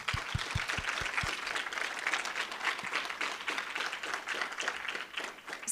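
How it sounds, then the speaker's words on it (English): A university audience applauds student interns after their final presentations: a few distinct nearby claps open, then a dense patter of clapping from the room carries on at moderate level. "let's give them a round of applause"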